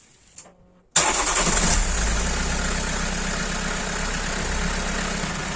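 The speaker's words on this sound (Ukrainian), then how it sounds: "Запускаємо двигун." A 2007 Toyota Corolla Verso 2.2 diesel engine cranks briefly after a short quiet moment, then catches and settles into a steady, close idle rumble.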